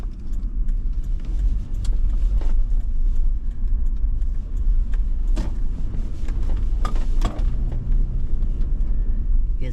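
A truck on all-terrain tires rolls off road in two-wheel drive, giving a steady low rumble of engine and tires with scattered clunks and rattles from the body.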